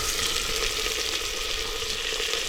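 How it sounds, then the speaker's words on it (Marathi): Loud, continuous sizzling fills the clip, a dense hiss of mutton searing in hot oil tempering on a wood-fired stove without pause. "मटण ते फोडणीला टाकायचं आहे"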